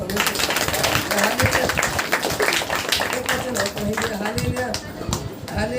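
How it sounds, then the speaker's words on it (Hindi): Hands clapping in praise during a Hindi-language church prayer meeting, a steady dense crowd clapping mixed with loud voices and singing throughout. "ताली बजाकर परमेश्वर"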